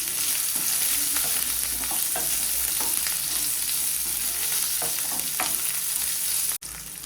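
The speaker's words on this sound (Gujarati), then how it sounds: "આપણે ફ્રાય કરેલા ભીંડા એડ કરીશું, સારી રીતે હલાવી લઈશું" Fried okra stirred into cooked potatoes in a pan, giving a steady close sizzle with repeated scraping stir strokes throughout and a brief dropout near the end.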